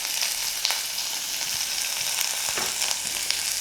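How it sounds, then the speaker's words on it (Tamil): Onions and green chilies sizzle steadily in hot oil, a dense crackling hiss with occasional pops, close up and continuous, no voices. "எல்லாம் போட்டு நல்லா வதக்கிடலாம்."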